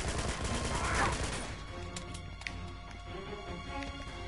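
Gunfire in the video game Uncharted 2: Among Thieves, a dense loud volley at the start that gives way to scattered shots and clatter under game sounds.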